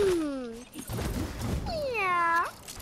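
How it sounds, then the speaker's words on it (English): A house cat gives two drawn-out meows, a descending cry then a longer rising-falling one, close and clear, with a person's voice in between. "Stop it, cat."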